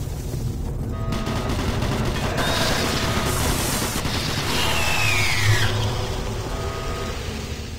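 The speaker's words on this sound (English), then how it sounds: "Warning, automated turret guns online." Automated turret guns fire in Doom 3 at a monorail facility, a steady dense rattle of sustained fire with mechanical whirring and a rising-falling whine sweeping through mid-clip.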